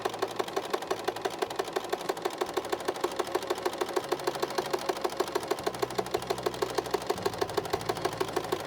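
A sewing machine stitches fabric for a frog-shaped pillow, its needle running in a fast, steady mechanical rhythm throughout, with a low motor hum that shifts slightly in pitch as the stitching continues.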